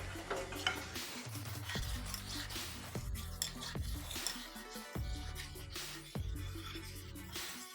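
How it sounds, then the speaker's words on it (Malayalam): Rice payasam is stirred in a pan with second coconut milk, a spoon scraping and clinking against the metal in repeated strokes over a low simmering bubble, fairly faint and close. "എന്നിട്ട് അതും ഒന്ന് നല്ലപോലെ മിക്സ് ചെയ്തെടുക്കാം."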